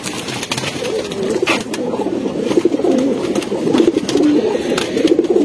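A male chila pigeon coos in repeated low, throaty phrases close by, a steady rolling rhythm with faint rustles around it.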